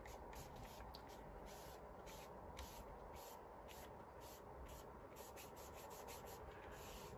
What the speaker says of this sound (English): And then I'll pick up some pink with the baby wipe. And just smear it on a little bit.